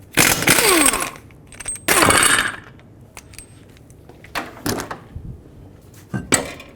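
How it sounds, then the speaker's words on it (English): Lug nuts on a 2001-06 Toyota Camry wheel being removed with a 21mm socket, several short bursts of ratcheting and metallic clinks separated by pauses, close and fairly loud. "with a 21mm socket, remove all 5 of your lug nuts and then take the wheel off"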